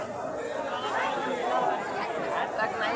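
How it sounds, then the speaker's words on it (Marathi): A dense crowd chattering at a Ganesh idol immersion procession, many overlapping voices forming a steady close murmur with no clear single speaker standing out. "गर्दीच गर्दी आहे."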